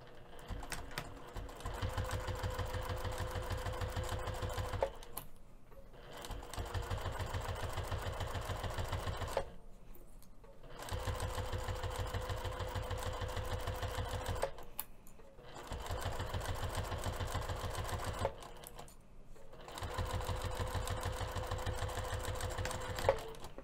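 Sewing machine running in bursts of top stitching at a 3 mm stitch length through the thick layers of a lace zipper box pouch, four steady runs of even rapid needle chatter separated by short pauses, close and alone.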